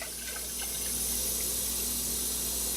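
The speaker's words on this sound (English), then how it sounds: "Add my water." Water is poured into a soup pot on a stove at medium-high heat while making wild nettle soup, giving a steady, close hiss of running liquid that continues for the whole stretch with no talk.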